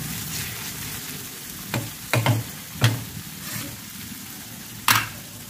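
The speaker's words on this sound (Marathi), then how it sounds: "हे पण आपण मस्त मिक्स करून घेऊ" Tomato puree frying in a pan for tava egg masala, a steady low sizzle broken by a few sharp scraping stirs of a spoon against the pan, close and clear with no voices.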